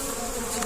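Honey bees buzz in a steady, continuous drone, close and moderately loud, with no other sounds in the brief moment.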